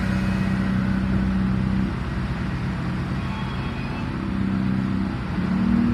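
Tour bus rolling through the streets of York, a steady low engine drone with a rising hum near the end, heard from inside the vehicle with no talk.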